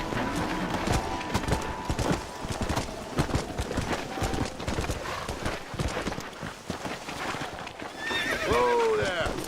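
A horse in the Red Dead Redemption video game whinnies and neighs near the end, while steady clip-clop hoofbeats of a gallop run throughout, up close and loud, with voices talking over it.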